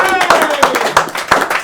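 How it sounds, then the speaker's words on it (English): An audience at a live comedy show gives a short round of applause, a handful of close, distinct claps in an uneven rhythm with voices and cheering mixed in. "can we have a round of applause for this guy, please?"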